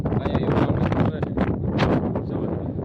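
Strong wind buffets the microphone in a steady, gusty roar, with indistinct voices faintly underneath.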